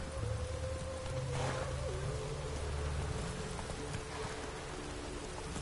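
Steady video game rain hisses throughout, with a low rumbling drone and faint tonal hum underneath, no voices.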